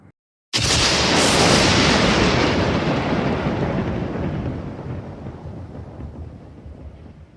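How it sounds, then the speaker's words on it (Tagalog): A sudden loud thunder crack bursts out after a moment of silence, then rolls into a long rumbling roar that slowly fades, used as a sound effect in a Filipino read-aloud story about why it rains. "Naggulantang ang kulog."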